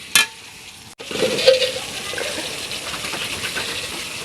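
Boiled potatoes tip into a hot pan with cinnamon and cardamom for aloo dum and get stirred and sautéed, opening with a brief clatter, then a steady close sizzle with soft scraping.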